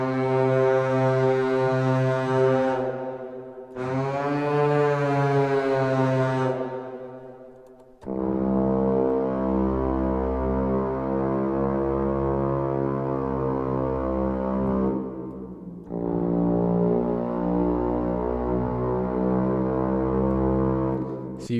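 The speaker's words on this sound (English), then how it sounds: "That really sounds like, you know, kind of a Viking war horn or Tibetan horn strings" A deep, sustained synthesized string drone, brassy and horn-like, swelling in long held notes with brief gaps between phrases, loud and alone.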